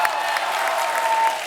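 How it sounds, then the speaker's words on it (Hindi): Studio audience applause on a TV comedy talk show, a steady wash of clapping from a large crowd that holds evenly throughout with no one speaking. "उसके लिए भी तालियां होनी चाहिए."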